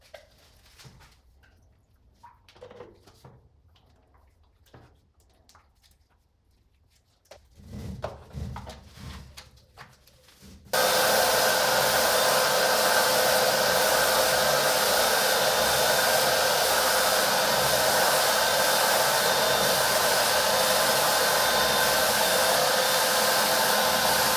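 A Bosch PFS 3000-2 electric paint sprayer starts abruptly and runs as a loud, steady, hissing roar that continues unbroken, following quieter handling noises and clatter before it starts.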